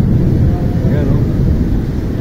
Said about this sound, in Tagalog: Ang lakas ng kulog